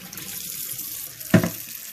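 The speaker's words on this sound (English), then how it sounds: "So now I'll fill this one back up with water." Tap water runs steadily into a sink to refill a container used for soaking foraged fiddlehead ferns, a soft continuous splash with one sharper knock near the end.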